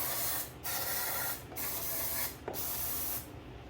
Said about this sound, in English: spray some carb cleaner down our throttle bodies